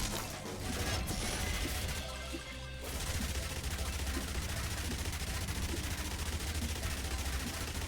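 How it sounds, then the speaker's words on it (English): Rapid, continuous minigun fire in the Yet Another Zombie Survivors video game, a dense sustained rattle of gunfire with crashing hits, loud and steady for nearly the whole stretch after a brief dip. "let's get that final minigun upgrade"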